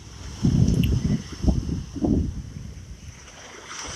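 Ocean waves break and wash onto a beach in a few rushing surges about half a second apart, moderately loud, with light wind noise and no voices.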